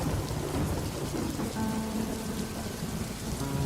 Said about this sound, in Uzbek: Yomg'ir bilan shamol hali ham o'z kuchida.